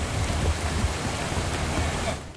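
Pouring rain hisses steadily and densely outdoors during a fugitive arrest, a broad continuous wash of falling water with no voices.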